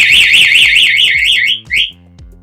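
A loud electronic scooter alarm find-me siren warbles rapidly up and down for about a second and a half, then gives a couple of short chirps before stopping.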